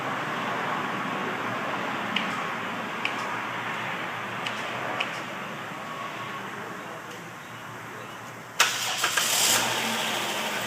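Dodge Grand Caravan engine after a spark plug replacement, cranking and catching into a steady mid-pitched idle with a few faint clicks, then a brief louder rev near the end.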